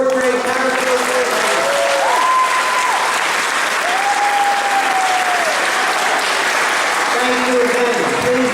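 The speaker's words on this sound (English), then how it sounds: "will you join me in a round of applause for the fourth grade character award?" An audience at a fourth grade school awards ceremony claps in sustained, even applause, with voices faintly heard over it.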